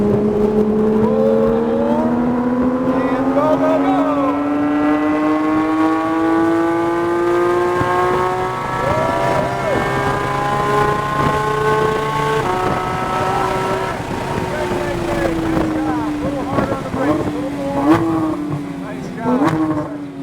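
A Porsche GT3 RS on a road course pulls hard under throttle, its engine note climbing steadily in a loud, close, smooth howl with a brief dip and then further revving and shifting near the end.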